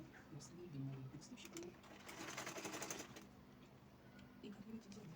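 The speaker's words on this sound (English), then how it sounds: "I'm going to sew all the way down" A sewing machine stitches down a garment sleeve with a quiet, fast mechanical whirr that rises and fades, heard up close alongside some talking.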